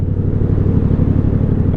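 A Yamaha MT-07 motorcycle fitted with a custom exhaust gives a loud, close, steady low rumble with a rapid throbbing pulse, with no other sound over it.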